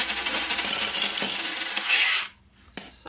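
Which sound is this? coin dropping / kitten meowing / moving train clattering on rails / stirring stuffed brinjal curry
coin dropping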